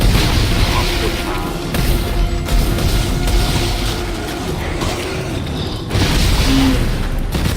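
Heavy booms and rumbling crashes from the sci-fi horror game Dead Space 3, loud and sustained with several strong surges, mixed with mechanical clanks and game sounds.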